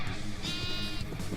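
A sheep bleating in Minecraft, one drawn-out wavering bleat heard up close and loud, with no voices alongside.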